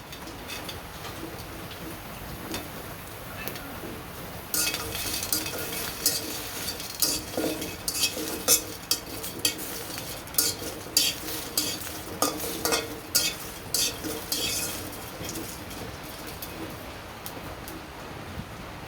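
Green chilies and garlic fry in a pan for a prawn mash, a steady hiss of sizzling broken by repeated scraping stirs and knocks from the midpoint on, close and fairly loud.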